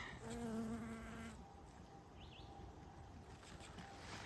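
A bee busy on a large garden sunflower, its pollen baskets full, gives a steady close buzzing drone that swells at first and then settles into a softer, continuous hum.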